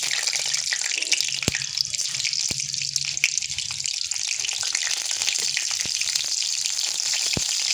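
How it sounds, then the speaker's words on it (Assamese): Panch phoron spices and split green chillies sizzling in hot oil, a steady bright hiss with occasional sharp pops and crackles, close and uninterrupted. "পাঁচফোৰণকেইটা ফুটিবৰ কাৰণে দিম আৰু ইয়াতে দি দিম মই এনেকৈ দুইফাল কৰি থোৱা জলকীয়া"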